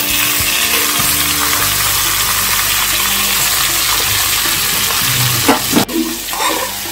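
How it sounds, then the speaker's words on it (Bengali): Katla fish pieces fry in a pan of hot oil, a loud, close, steady crackling hiss that continues without pause, with a brief clatter near the end. "মাছগুলো আগে প্রথমে ভেজে নিচ্ছি"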